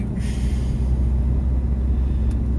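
An Alfa Romeo 147 JTD diesel engine clatters under the hood, a steady low rumbling idle held close and continuous, with no talking.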